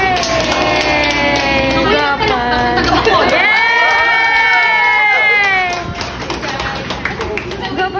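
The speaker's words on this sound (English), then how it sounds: "Let's give her a round of applause" A crowd at a makeup line launch in Bacolod greets actress Bella Padilla with loud cheering, high shouts and whoops, and scattered clapping, while an amplified voice talks over the noise before it settles into lighter applause.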